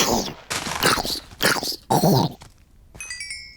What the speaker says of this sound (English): Whoa! Ow, baby zombie.